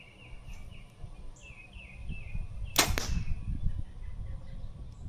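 An arrow shot through a chronograph gives a single sharp, loud whoosh-crack in a wooded backyard, standing out over steady outdoor ambience with faint birdsong in the background.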